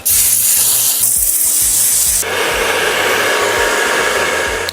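Adhesive spray hissing onto wig lace, a loud, close, continuous spray that shifts in tone partway through and keeps going for several seconds.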